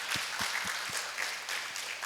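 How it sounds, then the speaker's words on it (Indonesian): A small indoor audience claps in a brief, steady patter, fairly faint and alone. "tepuk tangan"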